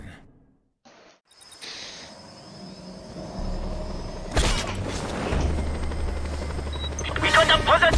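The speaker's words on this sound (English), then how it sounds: "Send a chopper!" In the video game Just Cause 2, a helicopter arrives as whirring rotor noise grows from near silence and swells louder, joined by bursts of mechanical clatter, while a voice speaks over it.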